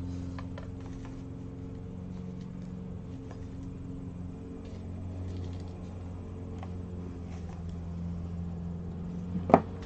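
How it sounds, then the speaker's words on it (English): A lawnmower engine drones steadily in the background, a low harmonic rumble holding for the whole stretch with faint patter and a brief sharp knock near the end; no one speaks. "Apologize for the lawnmower noises that are about to ensue."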